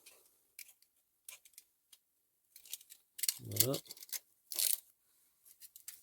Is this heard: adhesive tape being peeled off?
yes